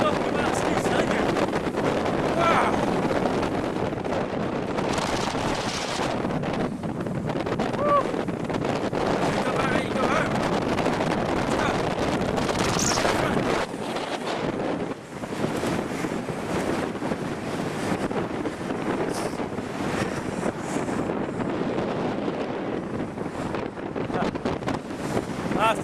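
Strong wind on a beach buffeting the microphone in loud, continuous gusts, with waves or surf underneath and people talking at times.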